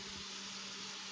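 A fan runs inside a campervan during cooking, giving a steady, close, even whoosh with a low, constant hum underneath, unbroken for the whole moment and with no talking over it.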